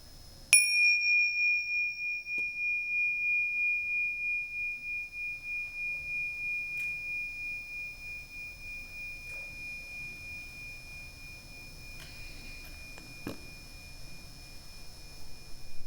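A single bell is struck once near the start, its clear ringing tone lingering steadily and slowly fading over many seconds in a quiet room, with faint low background hum beneath.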